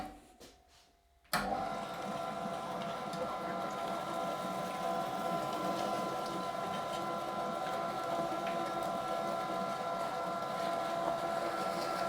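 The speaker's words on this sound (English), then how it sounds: "Now we grind it again. Let's grind that meat again." Electric meat grinder grinding pork and apple sausage meat a second time, a steady loud mechanical whir with grinding texture starting abruptly after a brief quiet moment and running continuously to the end.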